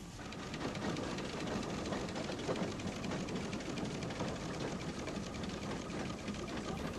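Steam traction engines working at the Great Dorset Steam Fair, a large outdoor rally, fill the air with a continuous busy mechanical clatter and hiss, a steady dense texture at moderate level with no talk.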